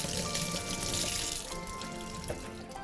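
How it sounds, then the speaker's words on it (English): Tap water running into a sink as celery is washed during a summer BBQ cookery demo, a soft steady splashing and trickling stream, fairly quiet and close, with no talk. "just pull off your celery and give it a wash"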